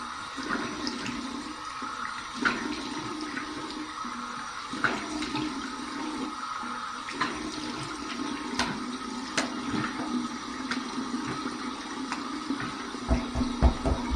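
Cold water runs steadily from a bathroom tap during a shave, a continuous hiss and splash with a few faint clicks and knocks near the end.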